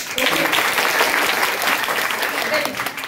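A seated audience at a tobacco-awareness talk bursts into dense, continuous clapping that carries through the whole stretch, fairly loud and close, with a hint of voices under it.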